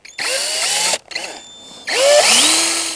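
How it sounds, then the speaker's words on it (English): A power drill with a small 1/4 inch paddle bit pre-drills holes for lag bolts at a bracket, in loud close whining bursts that rise in pitch as the motor spins up, with a brief stop between runs. "I'm just going to pre-drill these with a small 1/4 inch paddle bit."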